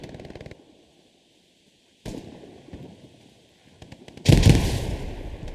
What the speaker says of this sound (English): Oh, some nice grenades from the allies connecting, killing a few Axis members.